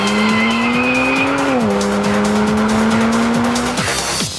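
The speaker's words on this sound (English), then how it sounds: "We developed an exhaust system together with Burkard and saved 11 kilograms. We achieved a great sound and 8 horsepower more" A BMW Alpina B3 GT3 race car with a lightweight custom exhaust screams past at high revs, one loud sustained engine howl that dips with a gear change and then climbs again, with tire squeal and no talking.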